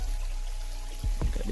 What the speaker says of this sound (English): we are getting the coconut milk now because we don't want the pot to burn